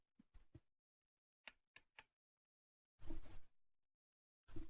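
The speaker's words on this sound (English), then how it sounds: "I was actually typing just loud, hacking away on the keyboard as usual" Loud clacks and rapid bursts of keystrokes hammered on a computer keyboard, close and dry, arriving in irregular clusters separated by short silences.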